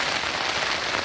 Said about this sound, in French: Bon, ben, il y a un orage.